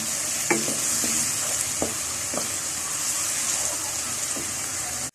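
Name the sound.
onion frying with ginger garlic paste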